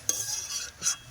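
A utensil stirs mixed greens and shrimp in a pan, two quick scraping strokes with a light sizzle between them, close and fairly loud, with no voices.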